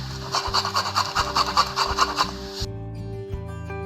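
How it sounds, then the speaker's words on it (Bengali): Ginger grated by hand on a grater, a quick series of rhythmic rasping strokes up close, then stopping, over soft background music. "আমি আদাটাকে গ্রেট করে নিচ্ছি।"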